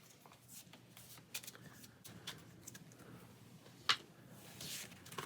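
Cards from the Pathfinder Adventure Card Game are shuffled on a table, giving a quiet run of soft riffling and flicking bursts with a few sharper snaps, close by and with no talking.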